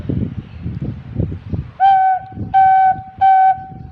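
Three steady, breathy notes from a Thai khlui flute held at the same pitch for tuning, each separated by a short pause, following a stretch of soft rumbling background.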